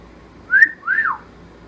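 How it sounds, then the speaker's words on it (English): A bird whistles two clear rising-and-falling notes, a short pause between them, bright and close against a quiet background. "He's learning the cat call whistle already."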